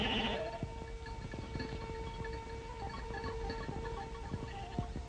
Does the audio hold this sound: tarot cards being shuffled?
no